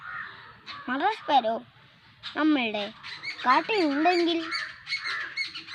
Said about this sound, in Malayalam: കേട്ടോ കുറേ പക്ഷികളുടെ സൗണ്ട്.